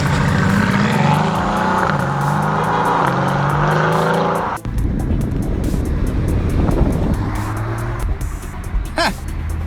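Mercedes-AMG GT S (2017) fitted with an Akrapovic Evolution exhaust, loud and close, revving hard through rising engine notes with gear changes, then shifting to a rougher, burbling tone after a sudden break midway; no talking.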